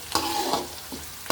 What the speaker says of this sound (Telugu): ఇది ఆయిల్లో వేసుకొని వేయించుకుంటే బాగుంటుంది